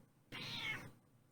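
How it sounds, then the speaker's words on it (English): A pet cat gives a single drawn-out meow, fairly close and clear against a quiet room, with no talking over it. "Cat sounds, I think, are a time-honored tradition on the Born to Be Wild podcast."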